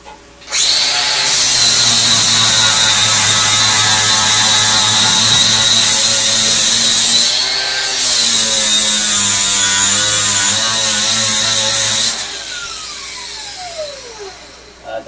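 A die grinder used while shaving a car's engine bay whines at a high, steady pitch in a long run, drops briefly, then spins again before winding down, loud and close.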